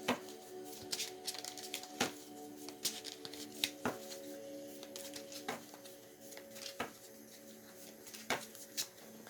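A deck of cards is shuffled by hand during a psychic card reading. Soft, close riffles and taps recur irregularly over a faint, steady background hum, and no one speaks.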